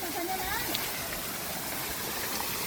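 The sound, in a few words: water gushing out at high pressure from a 1500W BLDC borewell motor pump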